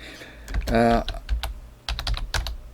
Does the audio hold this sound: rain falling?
no